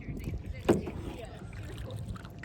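Clear-bottom kayak paddled on open water on a tour toward the Shell Key Islands, with soft continuous water and wind noise and one brief splash-like burst near the start while voices talk lightly.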